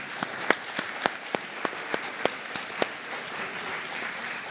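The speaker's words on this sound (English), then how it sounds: "Please join me, everyone, in a round of applause for our panelists." Sparse, scattered hand claps from a small conference audience greet panelists at an early childhood education policy panel, a dozen or so distinct claps spread unevenly over several seconds against a quiet room.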